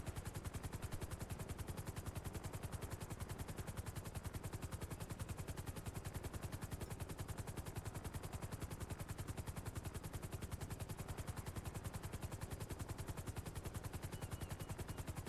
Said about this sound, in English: They're exchanging fire with him.